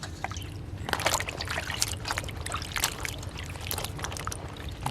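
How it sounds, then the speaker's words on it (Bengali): Young, tender okra from the garden rinsed a second time in water, with soft sloshing, trickling and splashing as the pods are moved around in a bowl, steady and close with no talk. "আগে একবার ধুয়ে নিয়েছি, এবার আবার ধুয়ে নিলাম।"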